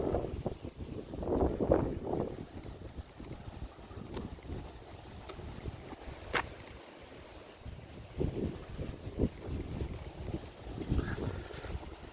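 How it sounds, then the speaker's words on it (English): Gusts of wind buffet the microphone in low rumbling bursts, rising and falling over a faint outdoor background at the front of Saint Michael's Church, Madeley, Telford, with no talking. "it's a bit windy, so you'll have to bear with it."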